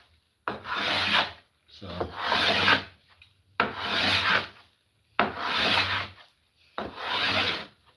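Hand plane shaving 100-year-old wood in five firm rhythmic strokes, each a loud rasping swish separated by short pauses, close up and with no talking.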